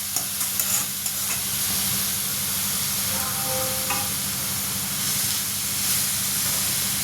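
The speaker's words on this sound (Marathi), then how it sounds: "आता तूप गरम झालं की आपण लगेच यात बीटरूट टाकणार आहोत आणि परतून घेणार आहोत छान." Grated beetroot sautéing in hot ghee for halva, a dense steady hiss and sizzle with light scraping as it is stirred, close and constant with a low background hum.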